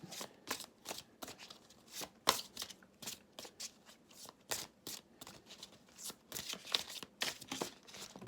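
Tarot cards shuffled by hand in a rapid run of crisp, papery riffles and slides, close but fairly soft, with an uneven rhythm and no talking.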